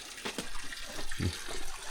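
Steady rushing water flows continuously at close range, a broad, even wash of sound with no voices.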